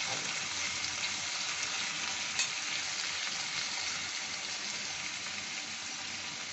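Potato pieces fry in a hot pan while cooking a banana-stem curry, a constant close sizzle and crackle with light stirring, even in level from start to finish.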